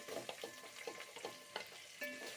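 Chopped onions frying in a pan while being cooking a coconut milk dish, a soft steady sizzle with repeated scraping stir strokes at a quick irregular rhythm, close and quiet with no talk.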